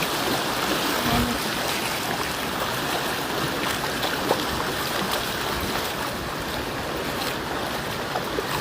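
A river flowing near waterfalls in Albay, a steady broadband rush of moving water heard close and continuous throughout, with no voices.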